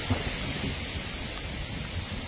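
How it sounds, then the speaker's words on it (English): Strong wind from Hurricane Milton in Florida roars steadily as a dense, loud broadband rush with some gusty buffeting, continuous for the whole moment with no voices. "As you see, wind, I can feel the wind, the speed is getting"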